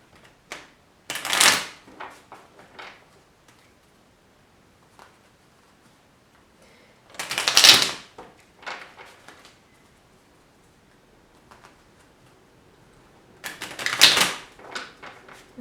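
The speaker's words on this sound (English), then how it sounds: "So let me just shuffle the cards." Tarot cards shuffled by hand in three bursts of riffling and flicking, separated by quiet pauses, close and fairly soft with no talking.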